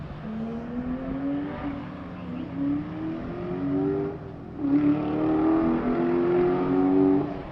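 A Bandit Turbo S car drives on a track at a morning event, its engine a steady, moderately loud drone rising in pitch through the gears, with a brief dip before it climbs again.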